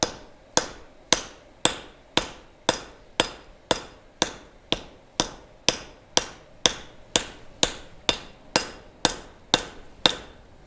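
Hammer blows on metal at an anvil in a gas forge setting, about twenty sharp ringing strikes in an even, steady rhythm, each with a short decaying ring, no voices.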